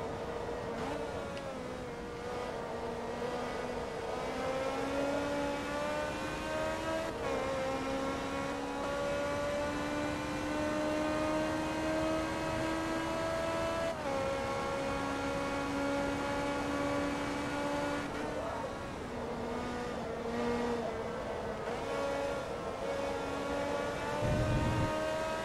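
A race car engine in the video game Forza Motorsport 2 screams continuously at high revs, climbing through the gears with pitch rising steadily before each shift drops it back, held loud and close throughout with no talking.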